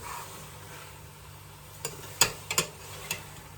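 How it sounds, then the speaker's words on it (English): A spoon stirs gizzard and tripe stew with garlic cloves in a pot, giving a few soft scraping clinks and knocks over a quiet simmering hiss. "Let's give this a stir around"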